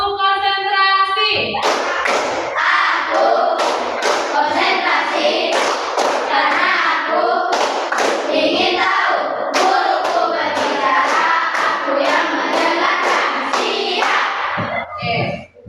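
Children in a classroom clap a long rhythmic 'concentration' chant, with quick repeated clap bursts in a steady pattern alongside a teacher's voice.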